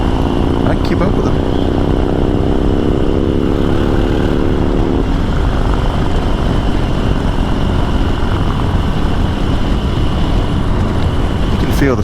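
A stock Harley-Davidson twin cam 103 motorcycle engine drones under way on a ride, with a rising rev sweep early on, then a steady loud rumble mixed with heavy wind noise.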